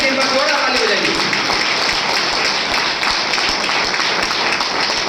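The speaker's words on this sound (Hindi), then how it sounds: "हमारे सारे नए गेस्ट को कैसे हम लोग स्वागत करते हैं? जोरदार ताली हो जाएगी।" Loud, dense audience applause welcoming new guests at a health coaching gathering, a continuous wash of many hands clapping together that stays steady from start to finish, with a voice heard briefly at the beginning.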